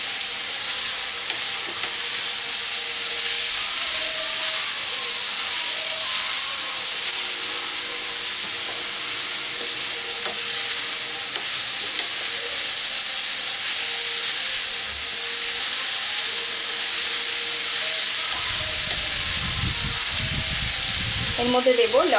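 Carrots cook in a pan over a low flame for a carrot dish, giving a continuous hissing sizzle with occasional stirring scrapes throughout.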